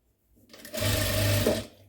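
A sewing machine stitches a jute placemat in a short burst, its motor whirring up quickly, running steadily at close range for about a second, then winding down to stop.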